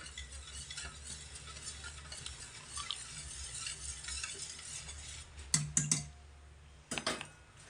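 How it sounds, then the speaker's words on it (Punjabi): A spoon stirs black salt into a homemade drink in a glass with a steady soft scraping swirl, ending in a few sharp clinks against the glass. "ਹੁਣ ਇਹਨੂੰ ਚੰਗੀ ਤਰ੍ਹਾਂ ਆਪਾਂ ਨਮਕਾਂ ਨੂੰ ਮਿਕਸ ਕਰ ਲੈਨੇ ਆ"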